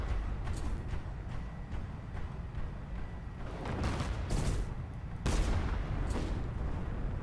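Guns and cannons firing in the airship combat game Cloud Pirates: a steady rumble of gunfire with sharper cannon blasts bursting through at irregular moments, fairly loud and sustained.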